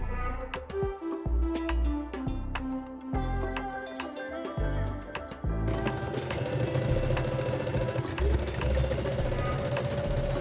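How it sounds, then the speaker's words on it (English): A sewing machine stitches a folded hem on a pair of pleated wide-leg shorts, running in short bursts with pauses, then settling into a continuous close, steady whirring hum. "Stitch the folded hem close to the inner folded edge."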